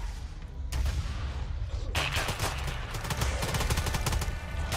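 Rapid, dense gunfire crackles in a video game set in Arma 3, with loud overlapping shots rattling continuously and a heavier burst starting about two seconds in.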